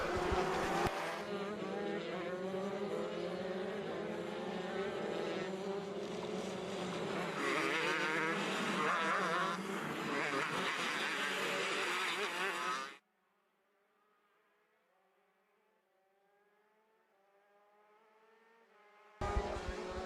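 Shifter karts race on a kart track, their high-pitched two-stroke engines screaming loud and continuous as they pass close by, then dropping to a faint distant whine before another kart roars back in at the end.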